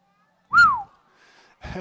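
A referee's whistle at a boys' high school soccer game gives one sharp, rising-and-falling blast, followed by a quiet pause and then a brief burst of other sound.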